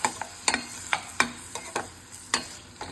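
Sliced tomato sautéing in a pan for a bottle gourd seed pachadi, with sharp, regular clacks of a spoon stirring against the pan over a soft, constant sizzle and no voices.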